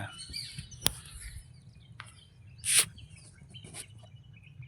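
Crows and sparrows call in the morning: a few sharp chirps and a louder harsh caw stand out as separate bursts over a quiet, low background hum.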